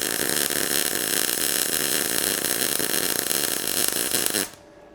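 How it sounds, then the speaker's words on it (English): Welding on a Rapidor Major donkey saw, a dirty old power hacksaw: a loud, steady crackling hiss runs close for about four and a half seconds, then cuts off abruptly into quiet. "Sounds like what I expect a weld to sound like."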